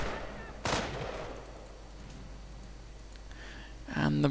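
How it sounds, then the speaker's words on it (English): A mortar fires during a video game battle: one sharp, loud blast with a lingering rumble early on, followed near the end by another heavy burst of gunfire-like noise. "But the mortar still fires."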